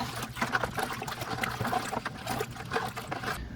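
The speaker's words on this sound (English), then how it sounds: "So I'm just going to take a spoon here and stir it till it's all dissolved." A spoon stirs ingredients to dissolve them in a home-brew beer container. The liquid sloshes and trickles quietly and continuously at close range, with faint scraping, and no one speaks.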